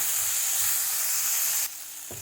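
Onions sautéing with salt in a pan for palak paneer sizzle in a steady, close hiss; near the end the sound drops abruptly to a quieter sizzle.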